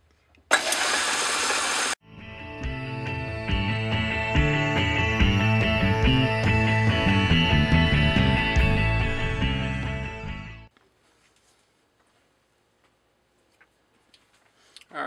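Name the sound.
lathe turning metal down to diameter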